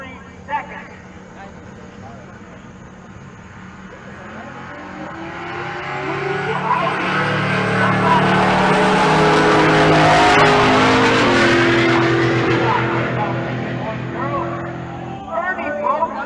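A drag racing car and a truck launch down the strip at a race event in Pueblo, their engines swelling to a loud roar that peaks mid-run and then fades as they pull away.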